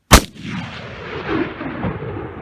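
One loud rifle shot on a Utah Rocky Mountain bighorn ram hunt, a sharp close crack followed by a long rolling echo across open terrain, with no voices.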